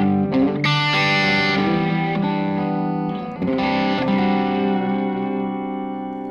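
Overdriven electric guitar played through a volume pedal, sustained distorted chords and notes swelling and fading, loud and close with a brief dip mid-phrase before the tone returns, no talking.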